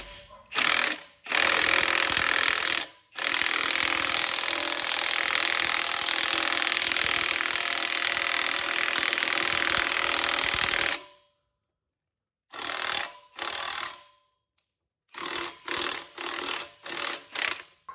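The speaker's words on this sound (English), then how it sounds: "So we're gonna go ahead and start hammering down." An F250 axle pivot bushing is driven in with a rapid air hammer, loud and close, in one long sustained burst and then a series of short stuttering bursts separated by pauses.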